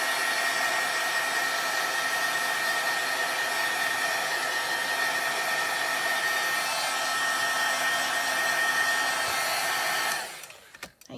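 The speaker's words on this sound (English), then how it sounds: "I'm going to hit this with the heat tool real quick just to give it a quick dry." A heat tool blows steadily and loudly for about ten seconds, drying ink on watercolor paper, before it switches off and winds down with a few faint handling clicks.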